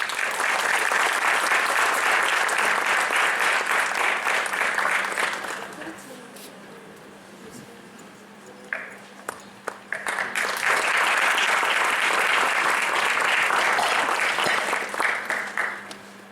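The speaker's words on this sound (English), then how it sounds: "A big round of applause for a lady who continues to inspire" An indoor audience at a college ceremony claps in a dense burst that fades out, goes quiet for a few seconds with scattered claps, then swells into a second round of sustained applause.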